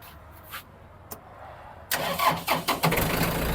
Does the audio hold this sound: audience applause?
no